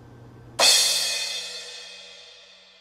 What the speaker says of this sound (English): And lastly, a cymbal crash.